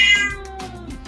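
A cat meows in a drawn-out, high, bright call that starts loud and close, then tails off into a few softer trailing mews.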